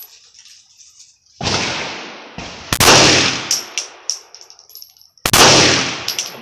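Several loud, sharp gunshots fired at targets outdoors, single reports spaced irregularly with echoing tails, one pair fired in quick succession near the end.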